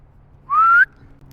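A single short, rising whistle by a person calling a hound dog, clear and close, lasting under half a second against a quiet background.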